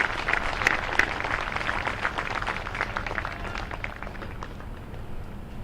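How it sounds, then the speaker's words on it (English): Applause at a high school graduation ceremony, a crowd clapping steadily and fairly loudly, then gradually tapering off. "Let's give it a nice round of applause for these folks."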